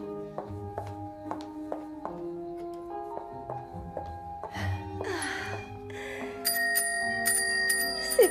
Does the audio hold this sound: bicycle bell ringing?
yes